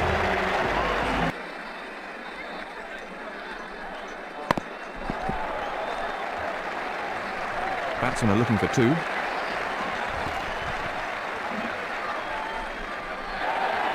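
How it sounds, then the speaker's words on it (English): Crowd applause from a simulated stadium in the cricket video game Ashes Cricket 2009, a steady wash of clapping and crowd noise running under a commentator's voice throughout. "The crowd appreciate the importance of this knock and are giving him a good round of applause."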